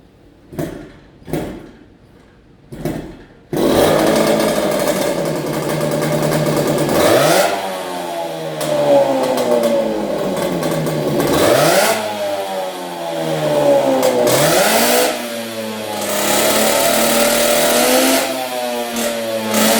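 A Mobylette moped with a Chinese-made cylinder and belt, several short starting attempts, then the engine catches and runs loudly, revving up and down repeatedly in a workshop.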